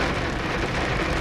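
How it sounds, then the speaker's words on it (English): Rain pours down in a loud, steady, dense hiss that fills the whole moment without any break. "I hope the rain's not too loud."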